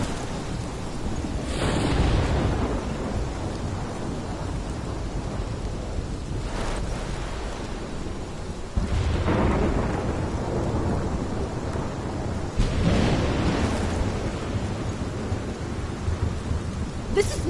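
A thunderstorm in the video game Life is Strange: constant heavy rain with several deep rolling thunder rumbles swelling at intervals, loud and close.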